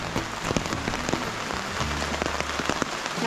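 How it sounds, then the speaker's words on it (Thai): Heavy rain pours steadily onto surfaces, a dense continuous hiss with scattered close drops and patters, while a low rumble runs underneath throughout. "ฝนตกหนัก!!"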